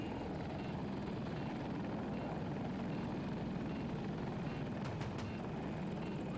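Steady broadband rotor and engine roar of a KA-520 Super Hokum attack helicopter in a video game on the Hourglass map, constant and close throughout with no talk, a few brief high clicks near the end.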